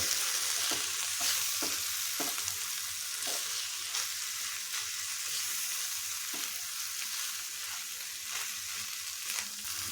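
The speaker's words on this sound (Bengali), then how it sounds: "এখন এটা খুব ভালোভাবে মিশিয়ে নেব।" Amla pickle being stirred with whole roasted black cumin and ajwain, a scraping, rustling mix with a faint oily crackle, steady throughout with repeated light clicks of the spoon against the container.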